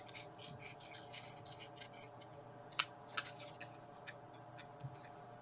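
Scissors snip around a paper flower cut from a scrap media board, a few quiet, sparse clicks and cuts spaced over a soft background with no talking.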